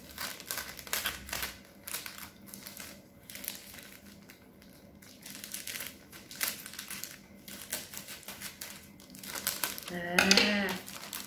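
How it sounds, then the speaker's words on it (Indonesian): Plastic sheet crinkling and rustling as it is spread flat as a mat for a children's clay activity, in repeated crumpling bursts with a louder flurry near the end, under light talk. "Sudah selebarkan plastiknya."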